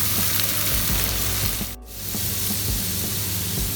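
Chana dal frying with browned onions in a pan for a special rice dish; a loud, close, continuous sizzle with brief stirring scrapes, dipping for a moment near the middle before resuming.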